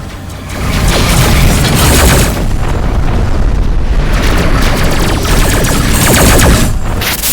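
Incoming missiles burst in a space combat game, Rebel Galaxy, as a sustained, loud barrage of booming explosions and rapid fire that rolls on for several seconds, swelling and easing without a break.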